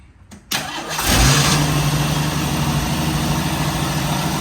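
A 1985 Jeep CJ7 engine fitted with Holley Sniper EFI cranks briefly, catches and fires up, then settles into a loud, steady fast idle close by with no talk over it.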